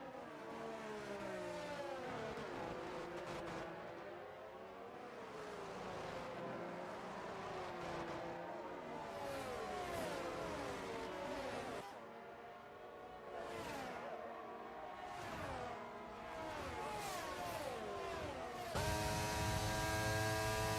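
An F1 car engine in the F1 22 video game, at the Azerbaijan Grand Prix, revs high and steady, pitch sweeping up and down through repeated gear shifts, with a brief drop before a harsher buzzing finish.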